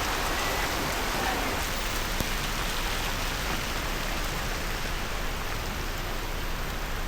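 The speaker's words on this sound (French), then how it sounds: "on est bien sous la pluie" Steady heavy rain pours down in Singapore, a dense, constant hiss of drops hitting surfaces close by, with no voices.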